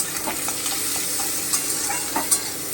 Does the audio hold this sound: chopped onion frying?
yes